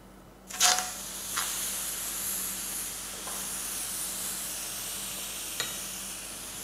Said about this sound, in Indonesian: Jadi ini kita panggang 2-3 menit aja.